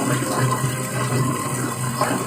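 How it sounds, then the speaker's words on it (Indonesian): Water gushes steadily from a high-flow, anti-clog household tap, a continuous close rushing stream with no pauses. "setiap keran itu berbeda-beda kecepatan airnya"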